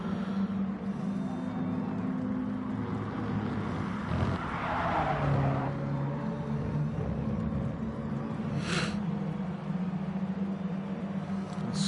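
Mini Cooper Cup race cars roar through a steady, continuous engine drone, with one car swelling nearer midway and a brief high screech later, no talk over it.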